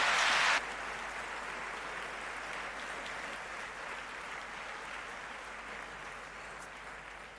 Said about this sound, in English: Give him a big round of applause once more.